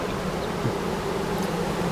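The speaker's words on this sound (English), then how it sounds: "And a whole bunch of bees." A dense, steady buzz of many honeybees from a relocated swarm fills the clip, close and continuous with no talking.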